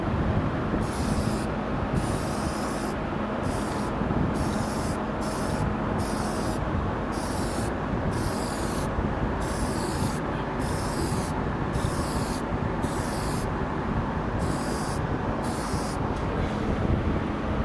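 Black spray paint is applied over primer on a car's front lower arms from a 2003 Hyundai Santa Fe, a continuous hissing spray with regular short pauses, a fan running nearby, no talk.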